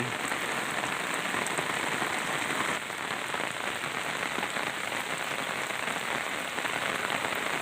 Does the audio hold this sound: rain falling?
yes